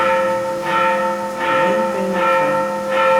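Church bells ring steadily in a slow repeating pattern, their rich tones overlapping and sustained, with no voices.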